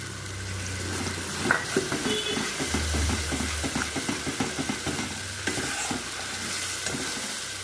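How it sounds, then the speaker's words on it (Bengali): Tomato puree sizzles in a pan for chana paneer, a continuous close hiss broken by quick, uneven scrapes and taps as the mixture is stirred. "এবারে টমেটো পিউরিটা দিয়ে দিচ্ছি।"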